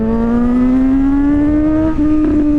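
A Suzuki GSX-S750 motorcycle fitted with a race exhaust revs up, a loud, close engine note climbing steadily in pitch, then a brief shift and continued high revving.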